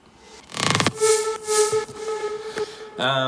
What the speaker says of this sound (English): So it sweeps into it and goes and sweeps into the actual hit when you listen to it.